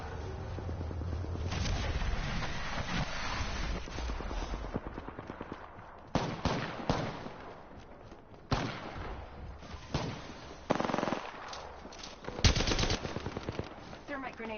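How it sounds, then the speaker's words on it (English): Minigun fire in the battle royale video game Apex Legends: loud, sustained machine-gun bursts that stop and restart several times, with sharper blasts mixed in and faint game noise underneath. "He's got a minigun."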